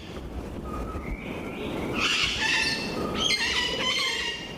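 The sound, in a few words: Puerto Rican parrot squawking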